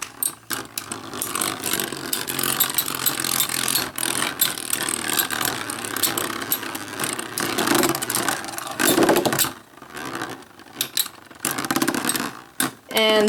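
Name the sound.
Beyblade Legends tops spinning and battling in stadium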